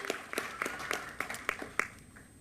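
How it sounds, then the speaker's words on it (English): Small group of high school quiz finalists clapping for themselves at a quiz competition final, about eight distinct, fairly quiet claps in a loose rhythm, fading out at the end. "Give yourselves a round of applause"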